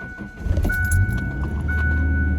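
A Ford Ranger truck unused for a week starts up: keys jangle, then the engine catches and settles into a steady close idle.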